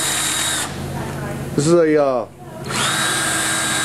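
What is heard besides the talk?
drill with a 3-inch grinding disc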